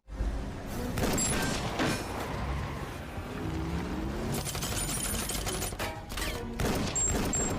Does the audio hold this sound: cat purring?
no